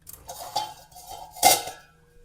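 Lid placed back over a cooking pan whose non-stick coating is worn, a few close metallic clinks and a brief clatter, no talk.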